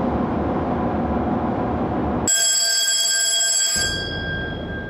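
A ship's alarm bell rings on board in a loud, sustained metallic clang for over a second, cutting in abruptly over a steady rumbling background and then fading off.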